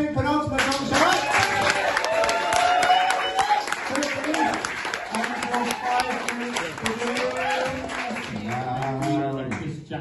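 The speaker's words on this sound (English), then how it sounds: "start the clapping, penultimate round, shall we?" Comedy club audience at a stand-up show clapping in scattered bursts while a strong rhythmic music track with sung or spoken vocals plays over it, the claps partly masked.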